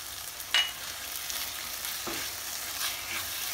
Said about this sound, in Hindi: इसको 2 से 3 मिनट मीडियम फ्लेम में भूनना है।